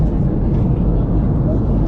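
Steady broadband roar of an airplane cabin during the landing approach, a dense low-frequency rumble that holds constant and loud throughout with no breaks.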